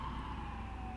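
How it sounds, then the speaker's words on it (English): An emergency vehicle siren wails faintly in the distance in Tacoma, steady and drawn out against a low background rumble. "Sorry about that siren, I live in the hood"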